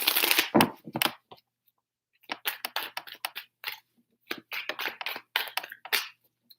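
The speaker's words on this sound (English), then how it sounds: "Three shuffles for Virgo" Tarot cards being shuffled by hand in three bursts of quick, crisp riffling and flicking, close and fairly quiet, separated by brief pauses of silence.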